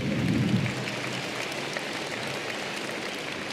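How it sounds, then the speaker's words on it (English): An audience applauds at the Ritsumeikan Asia Pacific University 2023 entrance ceremony, a short louder burst that settles into a steady wash of clapping filling the hall. "let's give them another round of applause"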